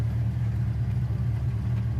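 Low, steady engine rumble of a 1968 Camaro heard from inside the cabin, a continuous deep idle drone with no breaks, fairly loud and close, with no voices over it.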